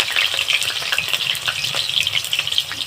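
Two potatoes cut into long strips frying in hot oil in a hot wok, a loud, dense crackling sizzle throughout.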